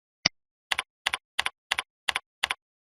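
Keys on a computer keyboard are struck in a quick, even sequence: one single tap followed by six double-clicking keystrokes, close and clear against silence.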